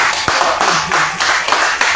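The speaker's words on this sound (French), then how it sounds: "on peut encore applaudir" Hands clap loudly and close by at a political press reaction, a dense, irregular burst of claps with sharp individual strikes and no pauses, with no talking.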